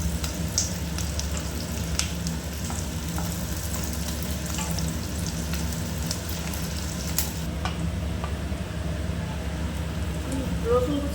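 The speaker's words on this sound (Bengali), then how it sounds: "অল্প করে ফ্রাই করলেই হয়ে যাবে" Food fries gently in hot oil in a pan while a Maggi Manchurian street-food snack is prepared, a soft continuous sizzle with faint stirring clinks throughout.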